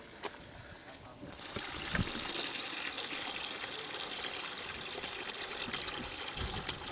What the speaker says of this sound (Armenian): Դույլը հենց մտավ ջրի մեջ, վարկանաչափը սխում ենք, հենց դույլը լցվեց, վարկանաչափը անջատում ենք։